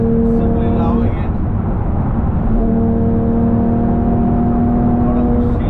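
Steady drone of a Porsche 911 GT3 Touring cruising on the road, heard from inside with a constant low engine and road roar and steady tonal hum throughout, a voice speaking briefly over it.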